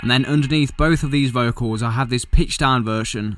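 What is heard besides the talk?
No everyday noises stand out.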